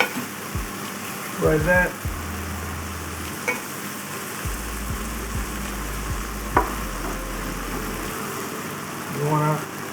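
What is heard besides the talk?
beef frying over very high heat in a pan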